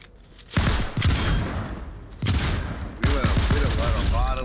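Bursts of automatic gunfire in the video game Fortnite, three separate volleys of rapid shots in a busy match, with a few tonal game effects near the end.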